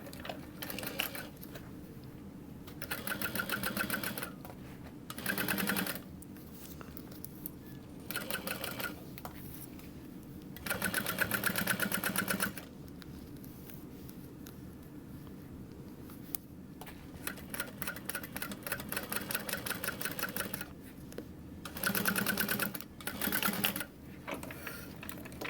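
A sewing machine stitching leather for a convertible backpack runs in short rapid bursts, several seconds each, separated by quiet pauses, close and clear with no talking.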